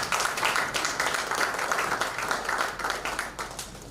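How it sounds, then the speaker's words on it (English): Audience applause at a graduation ceremony for a management course, a steady wash of many hands clapping at moderate volume that tapers slightly toward the end. "may we give her another round of applause"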